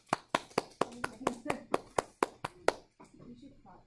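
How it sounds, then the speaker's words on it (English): One person claps about a dozen times in a quick, steady rhythm. The claps are close and crisp, and a few softer taps and faint sounds follow. "Applause, applause,"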